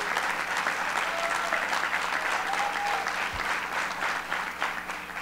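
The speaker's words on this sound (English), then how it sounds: "Let's give him a round of applause." Sustained audience applause for Assemblyman Marcos Crespo at a Puerto Rico relief and recovery announcement, a dense steady wash of many hands clapping at even volume throughout, with no voices over it.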